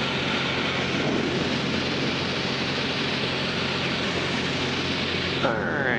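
A Zenith STOL CH 750 light-sport airplane drones steadily in flight, a continuous engine and airflow roar heard from inside the cabin.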